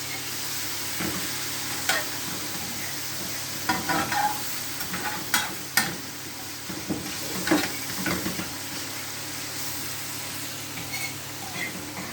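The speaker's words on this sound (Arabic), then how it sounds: "وهنقلب كويس جدا" Food stirred with a fork in a hot frying pan, giving a low, continuous sizzle under repeated scraping and clinking strokes that come in uneven bursts, fairly close.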